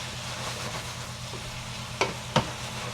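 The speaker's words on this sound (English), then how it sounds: "I'm gonna let that saute for about 2-3 minutes" Food sautés in a pan with a soft, steady sizzle close by, broken by two quick utensil knocks near the end.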